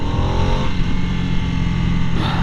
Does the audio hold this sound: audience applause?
no